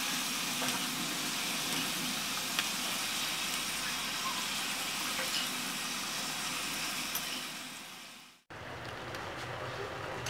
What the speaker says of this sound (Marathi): गोल्डन ब्राऊन होतील अशा आपल्याला तळून घ्यायच्या आहेत.